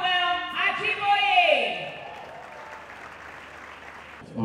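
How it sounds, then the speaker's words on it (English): At an awards ceremony, a voice speaks over the crowd before the audience breaks into applause for a winner, a soft, fairly distant patter of clapping that carries on under the hall's ambience. "A round of applause for Samuel Ajiboye once again."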